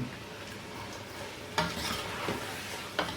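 Mutton pulao masala fries with tomato in a pot, hissing steadily while a spoon scrapes through it, with two distinct stirring knocks about a second and a half apart.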